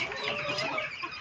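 Laying hens penned apart in a separate enclosure cluck softly and continuously, a close, low murmuring of several birds with no other sound.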